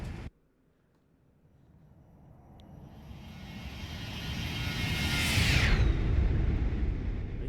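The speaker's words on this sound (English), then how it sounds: "Here comes a flyby." Airliner flyby in a flight simulator game: a jet engine roar swells steadily from quiet to loud over several seconds, with a rising high whine peaking near the pass, then sustained rumble.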